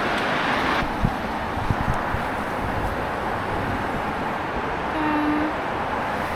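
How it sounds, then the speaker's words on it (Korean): A train moving along a city street in Dalian, China, on a very cold day, heard as a steady broad rumble with wind noise and a short tonal horn-like note near the end, with no talking. "우와, 길거리에 기차가 있어."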